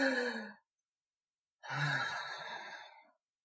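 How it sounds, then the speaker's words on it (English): A deep breath taken in a quiet setting: a short exhale, a pause of about a second, then a long, close, steady breath lasting over a second and a half, heard alone with no talk. "Take a deep breath"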